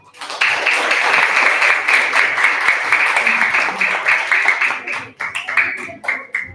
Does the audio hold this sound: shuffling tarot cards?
no